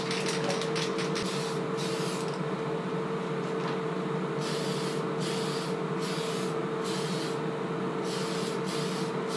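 Aerosol spray paint hissing steadily as a second coat is applied to a clear Proline RC car body shell for an Arrma Outcast 6s, with bursts starting and stopping over a constant background hum; no talking.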